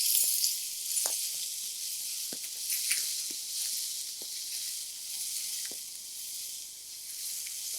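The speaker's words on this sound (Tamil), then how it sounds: "இந்த நெய்ல லைட்டா வதக்கிக்கலாம்" Chopped apple sautéing lightly in ghee, a faint, steady hiss with a few sharp ticks and stirring knocks scattered throughout.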